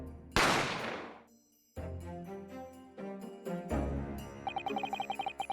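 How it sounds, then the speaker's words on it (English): A gunshot in the video game The Great Ace Attorney: one loud, sudden bang opens the sequence, then fades out under dramatic game music with rapid staccato notes. "I didn't have time to think about where the sound of the gunshot had come from."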